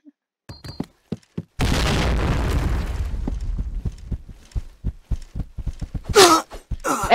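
A grenade explodes in the game PointBlank: one loud, close blast that roars and crackles for over a second, framed by sparse clicks and soft game noises and a short vocal groan near the end.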